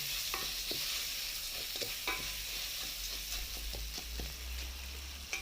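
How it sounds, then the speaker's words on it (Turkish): Rice toasting with melting butter in a pot crackles under repeated scraping strokes of a spoon, with irregular clicks and taps over a constant frying hiss. "Ve güzelce tereyağı eriyene kadar karıştırıyoruz"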